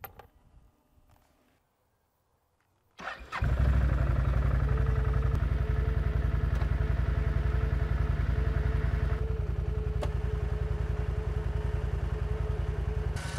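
A few quiet clanks, a pause, then a quad's engine starts and idles steadily and loudly with a low, even rumble, kept running to power its winch.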